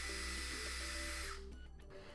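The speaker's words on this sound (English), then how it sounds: "So I'm gonna drill a pilot hole using a small drill bit." Small drill bit boring a pilot hole into a plastic Raspberry Pi case, a brief high-pitched whirring drill sound that winds down and stops partway through.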